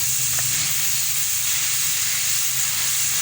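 Tomatoes frying in a pan, a steady hiss and sizzle that runs unbroken and fairly close for the whole stretch, with no talking over it.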